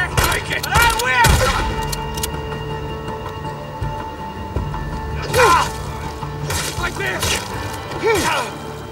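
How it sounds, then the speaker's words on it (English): Gunfire bursts in the video game Days Gone, a few sharp volleys clustered near the start and again around the middle and end, mixed with game effects and voices talking over the action. "What are y'all shooting at?"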